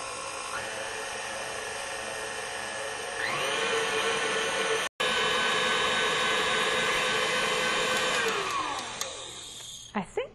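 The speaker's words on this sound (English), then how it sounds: "eventually I'm going to raise the speed up and let it beat for several minutes until it gets to exactly the consistency I want" An electric mixer beats cookie icing in a bowl, a steady close motor whine that steps up in speed partway through, briefly cuts out, then runs on before winding down.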